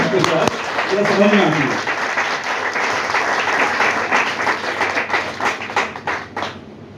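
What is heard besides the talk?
audience applause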